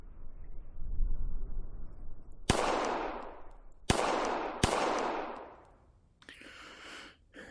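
Three sharp, loud handgun shots ring out at an outdoor shooting range as the shooter fires at a target's A zone, each crack followed by a decaying echo, with a softer clatter at the end.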